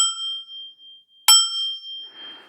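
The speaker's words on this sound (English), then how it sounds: "Definitely a bell." An old brass bell struck twice, each strike a bright clang whose pure ringing tone sustains and slowly fades, alone with no voices.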